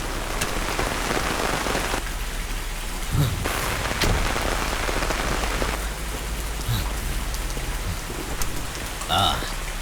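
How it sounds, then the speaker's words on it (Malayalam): Heavy rain pours down steadily throughout, a dense continuous hiss with occasional louder spatters and a faint rumble of thunder, with brief muffled voices in the background. "എന്തൊരു മഴയല്ലേ."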